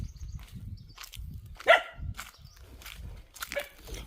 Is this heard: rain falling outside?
no